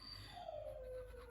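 A dog named June whines to get to her puppies, a single drawn-out high howling whimper that slides downward, close and clear with no talk.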